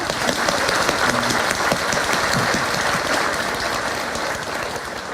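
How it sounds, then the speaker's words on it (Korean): A congregation at an Assumption Mass and stained-glass blessing in a parish church breaks into steady, full-room applause, unbroken and even from start to finish with no speech over it. "박수."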